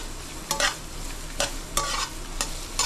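Spice paste frying in a pan with a little water for a fish-head moong dal, an even sizzle broken by several bursts of scraping from a spoon stirring the paste.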